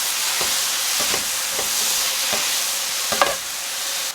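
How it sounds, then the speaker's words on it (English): Mushrooms and minced garlic sauté in a pan with a steady close sizzle, punctuated by several spaced scrapes and knocks of stirring. "I'm gonna add in a tablespoon of some minced garlic. And let this continue cooking for about another minute."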